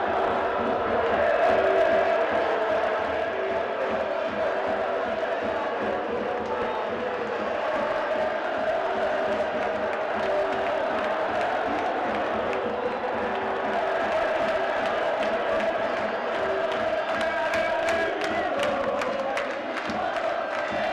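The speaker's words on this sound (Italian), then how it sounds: "il tifo di curva dello stadio in generale e i momenti dei gol inquadrando solo la curva" Football supporters in the curva of the Livorno stadium cheer and chant continuously, a dense, loud crowd roar with rhythmic sung chants and scattered whoops and claps throughout.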